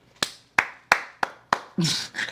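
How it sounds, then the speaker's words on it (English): Five sharp hand claps land at an even, brisk pace, close and loud, followed by a short burst of cheering or crowd noise. "Clap your hands if your team ever won Super Bowl."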